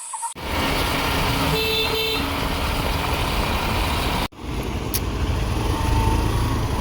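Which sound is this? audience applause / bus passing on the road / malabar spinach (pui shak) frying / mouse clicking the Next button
bus passing on the road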